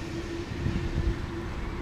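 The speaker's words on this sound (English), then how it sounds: "Darn traffic noises." Steady low rumble of passing cars on a street outside, a continuous near-constant traffic wash with a faint tonal hum, fairly quiet and without talk.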